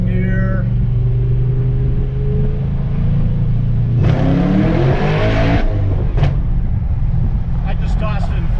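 A 2010 Camaro SS with a Kenne Belle supercharger pulls hard through its gears from the cabin with the windows down. The engine drones loudly and steadily, and its pitch sweeps up mid-run at a shift. A voice is faintly present under the engine.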